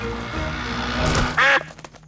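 A cartoon duck quacks in a short burst near the end, loud and close, over a light musical bed with a toy motorboat scene around it.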